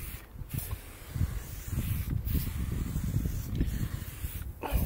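Armor All ceramic tire shine sprayed onto a tire in bursts, several short hissing sprays with pauses between them, close and fairly loud over a low rumbling background.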